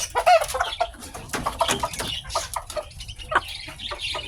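Chickens cluck and squawk busily at feeding time on a farm, with close, overlapping, irregular calls and occasional louder cries throughout.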